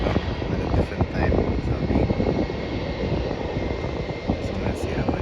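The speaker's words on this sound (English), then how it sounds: "that is a Jetstar Airbus A320 coming in from Gold Coast" Jetstar Airbus A320 arriving at Melbourne Airport from the Gold Coast, a loud, broad jet engine roar rumbling steadily nearby, with a person speaking over it.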